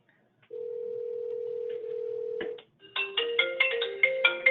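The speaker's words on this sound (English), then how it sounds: "And this phone is going to ring." An office phone gives a steady dial tone, then a cell phone starts ringing from an incoming call, a close, clear electronic ringtone of repeated rising chimes growing louder toward the end.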